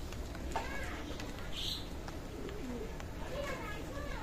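Pigeons of an Oman bloodline coo softly amid steady background noise, several low bubbling calls spread through the few seconds, with a voice talking faintly underneath.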